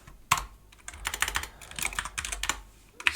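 Quick bursts of clicky keystrokes on a computer keyboard as a command is typed into a Linux terminal, close and clear, with brief pauses between runs of keys.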